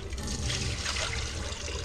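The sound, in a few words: tap water running to rinse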